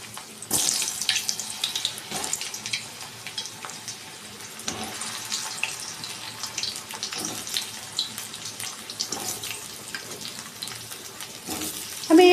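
Potatoes dropped into hot oil tempered with cumin, bay leaf and dried chilli give a steady, close hiss of frying that runs the whole time with small crackling bursts and no voices.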